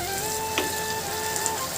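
Vegetables sizzle steadily in a pan as they are stirred, with a soft scraping clatter partway through and no voices.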